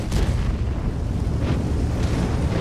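Tank guns fire in the World of Tanks video game. Deep booming blasts sit over a constant heavy rumble, with a few sharper shots standing out and no talking.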